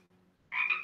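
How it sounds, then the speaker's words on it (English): A Pacific chorus frog gives one brief, raspy croaking call, close and clear after a quiet moment. "That's the word scientists use to describe the call of the Pacific chorus frog."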